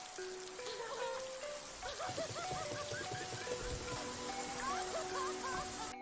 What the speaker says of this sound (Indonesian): tiba-tiba turun hujan yang membuatnya sangat senang